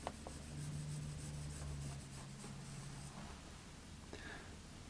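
Pencil lightly shading on paper during a beginner drawing of a grey nurse shark, a soft, steady rubbing rasp that is faint and close, running continuously with slight variations in stroke.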